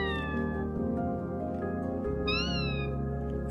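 An AI-powered robotic puppy imitates a cat, giving a sustained meow-like electronic tone with a rising yowl near the end, steady and close with no talking.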